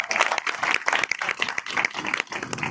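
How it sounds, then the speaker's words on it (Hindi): A crowd at a rally of upper-caste community members demanding caste reservations based on economic criteria claps loudly in welcome, a bursty uneven patter of many hands rising and falling throughout. "मैं उनके लिए आप सबसे एक बार जोरदार तालियों से उनकी स्वागत के लिए आह्वान करता हूँ।"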